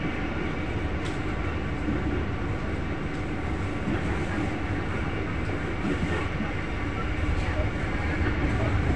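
A passenger train runs on rails between Telawa and Poncol stations in Indonesia, nearing Kedung Jati station, with a steady, loud rumble and faint clickety-clack throughout, heard from inside the carriage.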